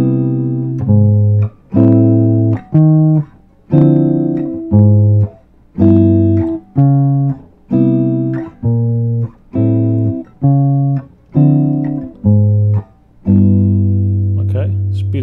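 A walking bass line with chords is played on guitar: evenly spaced plucked bass notes march in a steady slow rhythm, with fuller chord strums landing on the root notes, each note cut short before the next.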